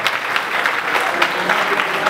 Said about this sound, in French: on l'applaudit, Miss Science